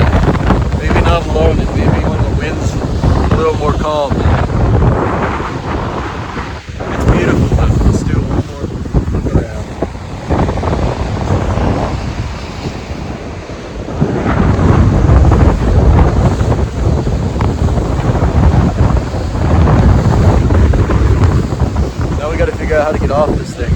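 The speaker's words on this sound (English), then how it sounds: "the wind's coming in stronger" Strong, gusty wind sweeps a lake beach at Headlands Beach State Park, Ohio, buffeting the microphone with a loud, rough roar that swells and eases in waves, surf rushing beneath and a voice briefly heard.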